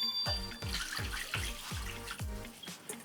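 Dashi broth poured into an oden pot of chicken and winter melon, splashing and gurgling in a series of rhythmic pulses, close and steady, with no talk over it.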